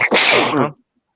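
A single sharp human sneeze, loud and close, with a quick inhale followed by a burst that dies away into silence.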